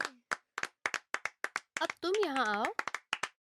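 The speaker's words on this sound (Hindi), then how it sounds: "ताली बजाओ।" Children in a classroom clap in a steady, evenly spaced rhythm of crisp single claps, with a short burst of a voice breaking in midway and a few words spoken at the start.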